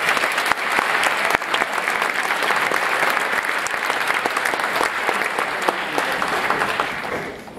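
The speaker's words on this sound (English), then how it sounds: "One more round of applause, please." An audience at the Badger High School scholarship awards ceremony gives a sustained round of dense, steady applause, loud and full for several seconds before tapering off at the end, with no talking over it.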